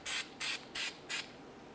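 Copper anti-seize sprays onto the hub face of a 2009-2010 Pontiac Vibe during a front brake job, four short evenly spaced hissing bursts, close and crisp.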